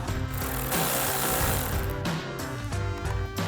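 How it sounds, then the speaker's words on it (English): A 10 mm socket on a power tool removing a bolt from Mustang GT trim, a loud continuous mechanical buzz close by with brief drops and restarts. "grab a 10mm socket and remove that"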